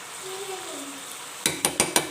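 Meat and cauliflower with salt and black pepper sizzle quietly in a pot, then four sharp metallic clinks of a spoon against the pot ring out close in quick succession.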